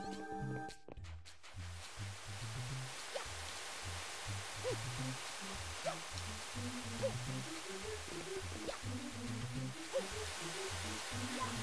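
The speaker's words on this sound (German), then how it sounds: "das Geräusch der Sandblöcke, dieses Rauschen" Steady broadband rushing hiss from crumbling sand blocks in the Sandy Castle (Magische Sandburg) level of the GameCube game Super Mario Sunshine, continuous throughout under low game music and small chiming effects.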